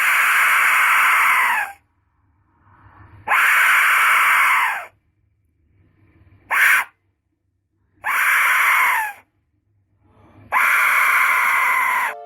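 An ancient Mexican death whistle blown in five loud, piercing, scream-like bursts. Each shriek lasts about one to two seconds and is separated by brief silences, with no other sound alongside.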